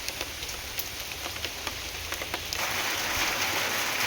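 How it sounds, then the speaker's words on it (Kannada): Morning rain falls steadily near a well and trees at a home in Karnataka, a close hiss of drops on surfaces that swells noticeably louder and denser partway through, with no talking. "ಬೆಳಿಗ್ಗೆ ಮಳೆ, ಹೇಗೆ ಮಳೆ!"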